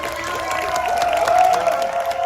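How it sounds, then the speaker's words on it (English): An audience at an Aliens fan convention panel keeps clapping, a continuous wash of applause mixed with excited cheers and vocal whoops, fairly loud and even throughout. "We're gonna have more applause."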